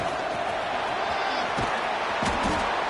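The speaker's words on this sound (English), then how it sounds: "It's early, but this crowd is fired up. Listen to this noise here." Stadium crowd noise from an American football video game forms a loud, continuous roar that swells slightly, with scattered thumps, carrying steadily under a commentator's voice.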